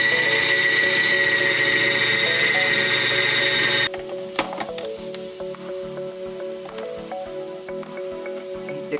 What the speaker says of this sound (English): let our processor run again